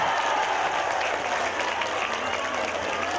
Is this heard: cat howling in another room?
no